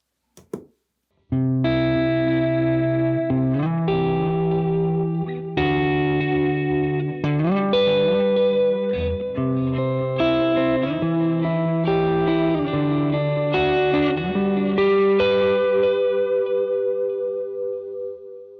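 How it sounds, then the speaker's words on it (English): Electric guitar played through a vintage digital delay model on a Line 6 HX unit on a worship pedalboard, sustained chords with repeating echoes and shimmering modulation, loud and steady after a brief opening pluck. "right now I have a vintage digital delay pulled up, and this is what that sounds like"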